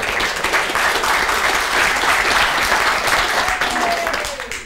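Studio audience applause at a 1979 televised trade union debate, a steady wash of clapping that holds at full strength and begins to fade at the end.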